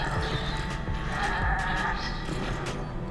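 A goat bleats from a laboratory cage in the Resident Evil 5 video game, mixed into a dense, loud game soundscape with steady background noise and a few brief calls.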